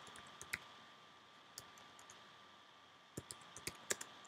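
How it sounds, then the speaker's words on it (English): Sparse keystrokes on a computer keyboard while entering a simple SQL query, a few isolated clicks early on and then a quicker burst of taps near the end over a faint steady hum. "So here I'm just going to type a simple SQL."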